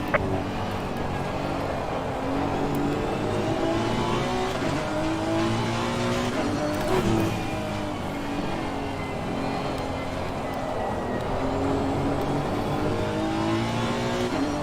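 Race cars circle the Hungaroring in a sim racing game, with engines revving and shifting through gears and several cars droning close by in a continuous, dense roar.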